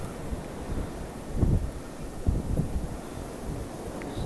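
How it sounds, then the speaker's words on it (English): Strong wind from a wind and blowing snow storm, roaring as a steady broadband rush with heavier gusts buffeting the microphone, close and continuous, with no one talking. "You can hear that wind. You can really hear that wind."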